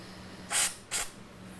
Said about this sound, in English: I'm just going to spray the quarter jacks a little bit